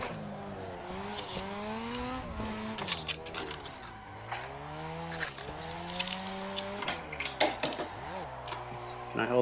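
A modified Mazda RX-7 sports car engine revs and surges through gear changes, held in third gear, rising and falling in pitch, loud and close, with someone talking over it.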